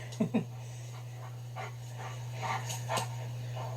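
A dog panting in a few breathy huffs with a short whiny yelp near the start, over a steady low electrical hum.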